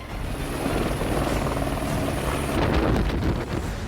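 Helicopter flying near the Kedarnath helipads, a steady loud rotor roar with wind buffeting that swells slightly near the end, no voices.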